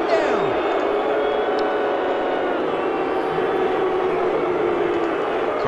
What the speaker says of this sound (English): Crowd doesn't like the call.